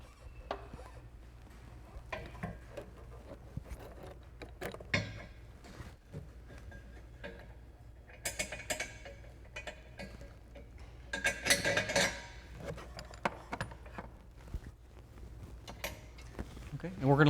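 Rear shock absorber being fitted to a Tesla Model 3, heard as scattered metallic clinks, clanks and tool rattles with bursts of busier mechanical handling, close by, amid occasional speech.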